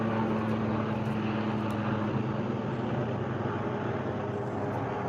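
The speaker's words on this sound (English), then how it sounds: "Chopper." A helicopter passing overhead, a loud continuous rotor and engine drone that stays steady throughout, heard on its own without talk.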